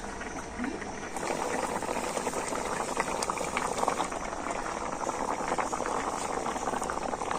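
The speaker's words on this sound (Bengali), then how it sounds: "এবারে আমি এই ফুটন্ত ঝোলের মধ্যে বড়াগুলো দিয়ে দেবা" Chana dal fritters simmer in a pot of boiling vegetarian gravy, giving a steady, close bubbling and burbling that runs unbroken and fairly loud throughout, with no talking.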